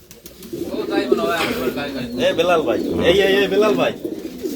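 Many pigeons and doves of various breeds cooing at a bird farm, repeated soft throaty calls rising and falling close by, with people talking over them.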